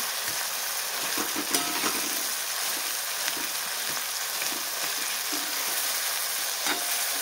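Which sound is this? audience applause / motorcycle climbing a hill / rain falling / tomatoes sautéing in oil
tomatoes sautéing in oil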